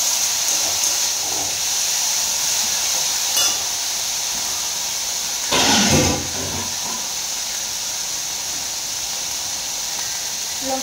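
Okra sizzling in a hot pan, a loud, continuous hiss up close, with a brief louder surge of crackling midway as it is stirred.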